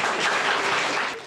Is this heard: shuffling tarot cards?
no